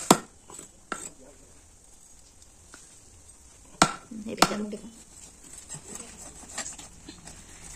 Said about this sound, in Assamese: মাছৰ কি ডাকুলি মাছটো কাটিছে। ইমান জোৰ কাটিব নালাগে হেৰৌ।